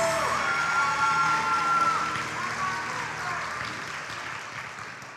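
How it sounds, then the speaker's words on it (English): An awards-show audience applauds students in a steady, dense wash of clapping that holds loud and then fades gradually. "Let's give these students a big round of applause."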